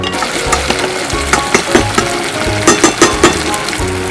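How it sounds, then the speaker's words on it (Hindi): Raw mango pieces sautéing in a pan with spices, a loud crackling sizzle punctuated by quick clattering scrapes and taps of a spoon stirring against the metal. "कच्चा आम जो हमने वो डाल दिया, इसको सौते करेंगे।"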